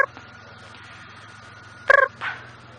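A person imitates the call of a little owl in an open outdoor setting, giving a brief, rapid series of pitched hoots followed by a softer trailing note over a low background hum.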